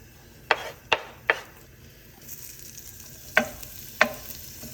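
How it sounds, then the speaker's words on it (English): Pork, onions and bacon sautéing in a pot for a Korean soft tofu stew, with a low sizzle underneath and several sharp scrapes and knocks of the utensil against the pot, close and without talk. "Let's get the pork, onions, and bacon sauteed."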